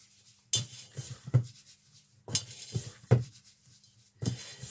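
Coloured grains stirred in a bowl, giving a few separate bursts of scraping, clinking stirs with brief pauses between them, close and fairly quiet.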